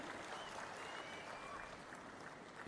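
A crowd at a political speech by a chief minister claps in a steady, dense wash of applause, heard fairly faint and continuous throughout.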